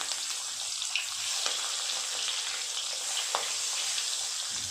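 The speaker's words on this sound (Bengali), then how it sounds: "তেল গরম হয়ে গেছে এক এক করে মাছ দিয়ে দেবো" Steady, bright sizzling of pabda fish frying in hot oil fills the clip, with a few sharp pops and crackles breaking through.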